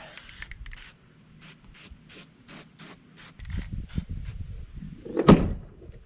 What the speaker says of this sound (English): A little bit of 99-cent spray paint.